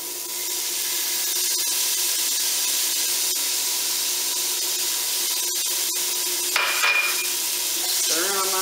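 Onions and garlic fry in bacon grease while being stirred, a loud steady hiss with sharp spatula taps and scrapes, a brief burst of louder crackle late on.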